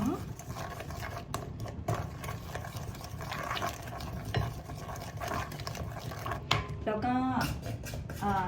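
Fermented soybean paste and dark soy sauce being stirred together while cooking, a soft wet mixing sound running under ongoing speech with a few brief knocks.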